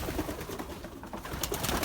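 Belgian racing pigeons coo softly in a low, throaty murmur, several birds close by, with faint rustling and outdoor ambience around them.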